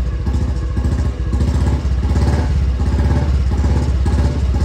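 A Royal Enfield Bullet motorcycle, just kick-started for the first time in over two months, idles with a loud, close, steady thumping beat.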